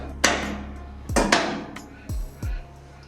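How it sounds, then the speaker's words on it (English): Several sharp metallic taps of a hammer on a bolt in a ute's leaf spring suspension, a single strike then a close pair and two more spaced hits, each ringing briefly over a steady low hum. "Give it a tappy tap with the hammer"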